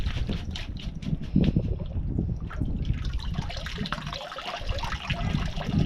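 Water sloshes and trickles steadily out of a gold pan being drained during diamond prospecting, a close, wet, continuous splashing with no voices.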